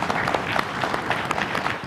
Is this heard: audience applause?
yes